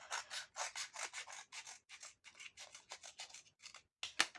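Scissors snip repeatedly through scrapbooking craft material, a steady run of close, quiet rasping cuts, with a sharper click near the end.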